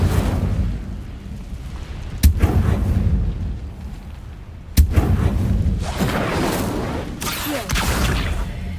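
Incendio fire spell in Hogwarts Legacy bursts out over a rumbling game soundscape, several sharp cracking impacts followed by roaring, whooshing flame blasts, loud and close.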